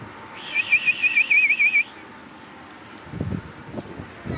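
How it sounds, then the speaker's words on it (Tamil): A person whistles a quick warbling, trilled call to summon pigeons, close and fairly loud for about a second and a half, followed by quiet outdoor air and a few soft low thumps. "புகாக்கு விசில் அடிச்சா புகா வரும்."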